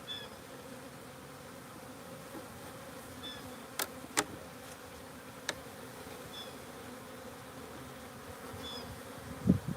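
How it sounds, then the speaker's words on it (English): Honeybees buzzing around an open beehive during a feeder setup, a dense, continuous hum of many bees close by, with occasional louder passes as individual bees fly near and a few light clicks of hive handling. "Look at all them bees."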